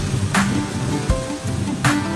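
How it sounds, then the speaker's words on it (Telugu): Rain keeps falling at night, a steady soft patter with a few louder drops or splashes over a low background hum. "ఇంకా వర్షం పడుతూనే ఉంది."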